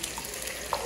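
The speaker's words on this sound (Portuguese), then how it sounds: "fazendo uma farofinha de calabresa com ovo, cenoura ralada, pimentão, cebola e alho" Sausage farofa with egg, grated carrot, bell pepper, onion and garlic crackles and sizzles steadily in a pan, a close, even frying hiss with small pops and no talk.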